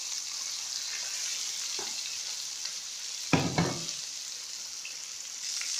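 Fish fries in hot oil with a steady, close sizzle and bubbling hiss, broken by a louder burst of splattering midway that settles back into the even crackle.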